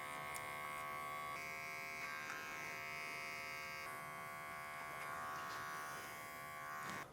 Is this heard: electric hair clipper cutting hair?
yes